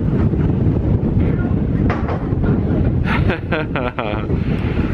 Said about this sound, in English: It's just windy.